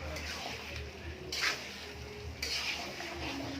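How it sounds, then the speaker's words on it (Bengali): Goat meat with chui jhal and whole garlic braises in a pot with a low, steady sizzle, broken by two brief scraping stirs of a spoon against the metal. "আমাদের মাংস কষাই চলছে"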